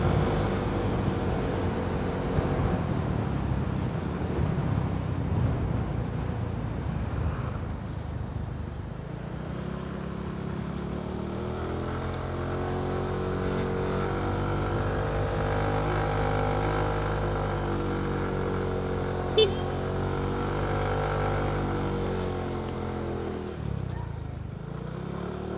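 A motorcycle engine hums steadily while riding below 60 km/h, its pitch rising and falling with throttle changes over constant headwind and road noise.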